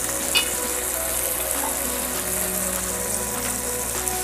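Frozen peas fry with leftover rice in a hot pan, giving a steady, close hiss and crackle throughout with a few faint scrapes and no talking.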